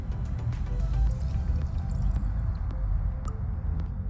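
Tap water poured into a cup of soil for a pH test, a continuous wet trickling and squishing that stays steady and close throughout with no talk.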